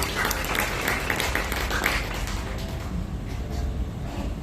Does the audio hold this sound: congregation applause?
yes